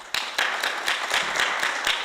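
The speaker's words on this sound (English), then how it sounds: "Let's clap hands for him as he comes to take a seat." An audience at a discussion forum on sustainable landscapes claps for a speaker, a short burst of steady rhythmic hand claps, close and moderately loud, with no talking.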